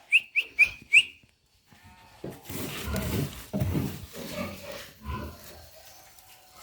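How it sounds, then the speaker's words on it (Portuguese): Sheep on a farm bleat several times in low, wavering calls, fairly close, after a quick run of four sharp whistle-like chirps. "Eu vou mostrar aqui pra vocês as ovelhas"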